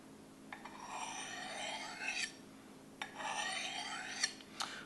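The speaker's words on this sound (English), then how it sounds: "get rid of the burrs and polish the edge" A knife edge is drawn along a ceramic rod to remove burrs and polish it, giving two long, raspy scraping strokes, each ending in a light metallic tick, close and quiet with no talk.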